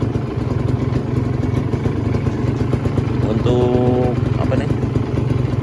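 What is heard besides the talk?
Kawasaki Ninja R 2015 two-stroke motorcycle engine idling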